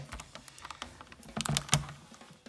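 Adhesive tape is pulled taut across a homemade Japanese wadaiko drum, making a series of sharp crackling peels and taps at irregular intervals, close and fairly quiet with no talking.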